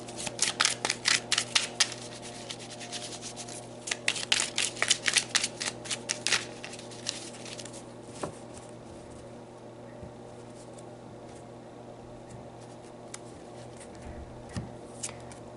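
A deck of tarot cards being shuffled in quick riffling bursts, then individual cards pulled and laid down with softer isolated flicks and taps, close and clear with no talking.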